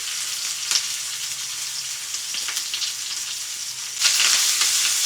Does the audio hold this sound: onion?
yes